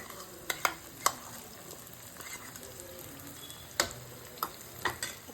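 Roasted stuffed brinjal fries quietly in a pan with a faint steady sizzle, broken by a few sharp scrapes and clicks of a spoon stirring against the pan.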